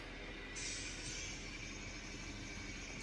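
An N scale model train runs on layout track, giving a steady, close rolling rumble and hiss with a faint metallic whine rising partway through, no voices.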